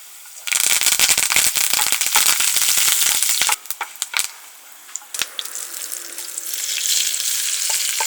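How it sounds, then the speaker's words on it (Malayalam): A couple of curry leaves, with shallots and dried red chillies, hit hot coconut oil in a tempering for chicken curry. A loud burst of crackling and sizzling with sharp pops drops off suddenly and then settles into a softer fry. "ഒരു രണ്ട് കറിവേപ്പില ഒഴിക്കും"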